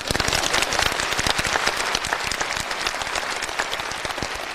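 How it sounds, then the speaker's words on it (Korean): Dense applause fills a sermon hall, a crowd of churchgoers clapping loudly and steadily throughout with many overlapping claps and no talk. "박수."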